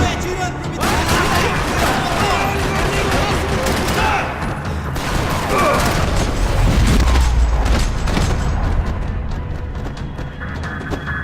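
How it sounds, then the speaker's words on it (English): Gunfire in the video game Max Payne 3 fills a parking lot: dense, loud, continuous rattling volleys punctuated by heavy booms, sustained for about eleven seconds with no pause. "Another parking lot rattling with gunfire."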